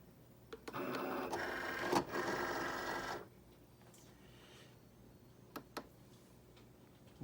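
A Cricut Explore Air 2 cutting machine runs with a steady mechanical whir and buzz for about two seconds, then falls quieter with a few faint clicks and ticks.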